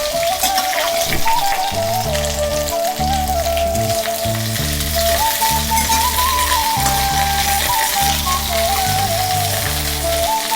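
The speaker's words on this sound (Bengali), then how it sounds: "ফুলকপি আর আলুটা একটু ভাজা ভাজা হয়ে এসছে" Cauliflower and potato fry in a pan for khichuri, crackling and sizzling steadily under a loud repeating music loop.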